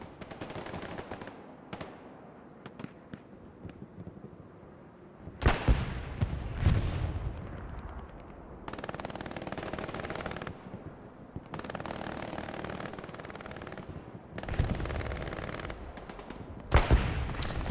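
MG42 machine gun fire in the video game Broken Arrow, heard as scattered, moderately distant bursts of rapid shots that come in several separate volleys among other battlefield booms.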